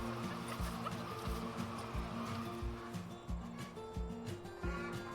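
Hens clucking inside a free-range egg farm barn, a rhythmic series of low, repeated clucks over a steady background hum, moderately close and continuous.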